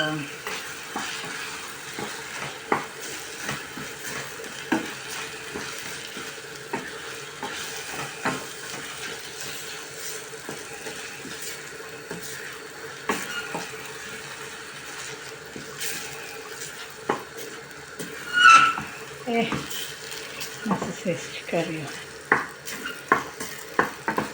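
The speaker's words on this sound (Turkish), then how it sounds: "Ve kavurmaya devam ediyorum." Bulgur pilaf roasting in a pan, stirred steadily with a spoon: soft sizzle under repeated scraping taps, with one sharper clink near the end and no voices.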